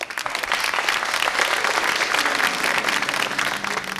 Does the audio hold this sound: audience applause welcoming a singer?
yes